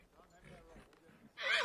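A mustang stallion in an animated film lets out a wavering whinny at the end, loud and close, after a stretch of low, murmured talking.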